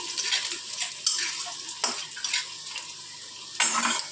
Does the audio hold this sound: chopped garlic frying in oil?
yes